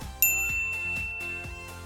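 A single bright notification bell ding strikes sharply and rings out with a clean sustained tone, heard alone over a faint soft musical background.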